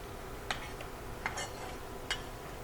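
A spoon stirs tomatoes and seasonings for Tex Mex egg roll filling, giving three quiet, separate clinks against the bowl over steady low background noise.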